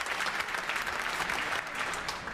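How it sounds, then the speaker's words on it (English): Continuous, thick applause rises from members seated in a parliamentary chamber, an even wash of many hands clapping at once, heard without any speech over it. "Your Excellency, we generally do not allow applause in this chamber."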